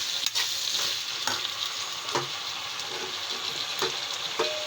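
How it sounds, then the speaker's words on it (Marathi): A spoon stirs mixed vegetable curry of eggplant, beans and potato in a hot pan, with a continuous sizzle and periodic scraping strokes, close and without talk. "या प्रकारे मिक्स करून घेऊ छानपैकी"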